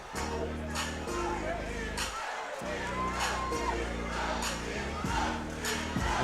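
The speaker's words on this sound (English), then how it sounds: "The crowd chanting Tiburon." A boxing crowd chants a fighter's nickname after a knockout win, a rhythmic mass of voices in the arena, heard beneath a ringside announcer who keeps talking over it.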